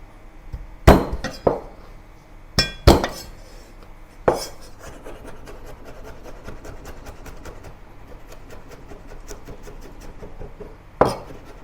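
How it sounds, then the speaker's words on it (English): A knife chops garlic, spring onion and ginger coarsely on a cutting board. A few sharp, separate knocks come first, then a long run of quick, light taps, and one last solid thud near the end. Close by, with no talking. "And coarsely chop all these ingredients."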